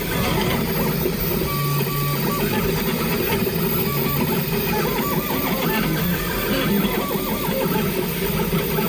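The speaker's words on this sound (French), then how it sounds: "Ce bruit que vous entendez, c'est celui d'une imprimante 3D." A 3D printer building a part for a protective face shield keeps up a continuous mechanical whir with shifting whining stepper-motor tones and small clicks, steady and close, with no voices.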